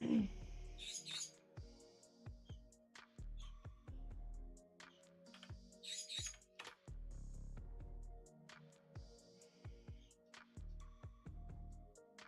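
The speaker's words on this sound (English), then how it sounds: "I hear you, Angry Bird." A pet bird chirps and tweets in sharp, repeated bursts indoors, fairly faint, with scattered clicks and household noise between the calls.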